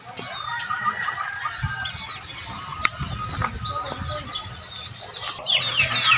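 Fighting roosters, freshly bathed, cluck and call softly outdoors at moderate distance, with scattered chirps of other birds and light background noise, no loud crowing.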